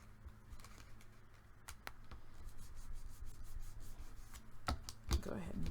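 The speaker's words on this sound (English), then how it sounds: "Go ahead and burnish that on." Quiet rubbing and scraping as paper is burnished flat onto a freshly glued surface, soft uneven strokes with a few light taps, close and alone.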